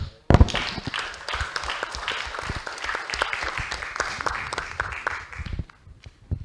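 A webinar audience applauds on cue after a speaker's closing remarks, with steady clapping from several people running for about six seconds before it fades out.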